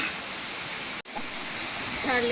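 Rampa waterfalls roar as a steady, broad rush of falling water, loud and close, briefly cut off by a short gap, with a voice speaking faintly at the end.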